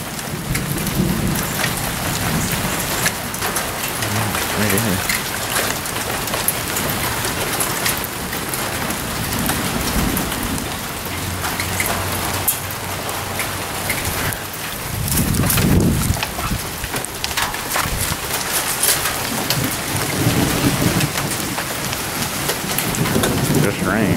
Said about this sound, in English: Just rain. Nothing severe.